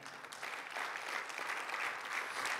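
A church congregation applauds together, a dense, steady wash of clapping that holds at an even level from start to finish with no voices standing out.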